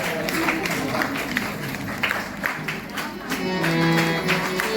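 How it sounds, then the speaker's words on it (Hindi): Worshippers at a Bhagwat Katha clap in welcome as Vasudev is carried in, a busy burst of hand claps mixed with crowd noise and sung or chanted tones toward the end. "आप लोग जोरदार ताली बजा करके स्वागत करेंगे"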